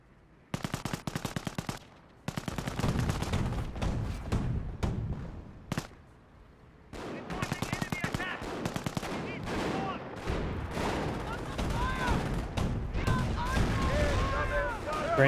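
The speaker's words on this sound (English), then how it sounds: "Grenadiers firing away." Dense rifle and machine-gun fire from German grenadiers in the Company of Heroes strategy game, rapid crackling bursts in two long volleys with a short gap, loud and continuous over game effects.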